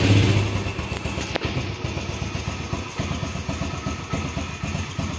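A 2007 Yamaha Jupiter Z motorcycle engine starts up and settles into a steady, even idle with a regular low putter, close and fairly loud, with no talking.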